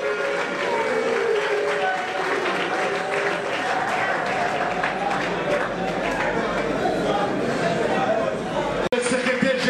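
A crowd at a political rally cheers and applauds in a dense, sustained roar, with voices and shouts mixed throughout and a brief sharp knock near the end.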